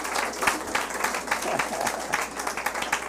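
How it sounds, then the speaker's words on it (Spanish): Church congregation applauding together in a worship service, a steady dense patter of many hands clapping at moderate loudness across the whole stretch. "Den aplausos al Señor."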